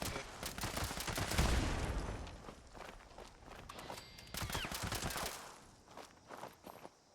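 Gunfire in Fallout 76 while fighting Scorched enemies, a dense stretch of rapid, repeated shots with footsteps mixed in, fairly faint and continuous across the whole stretch, with no speech.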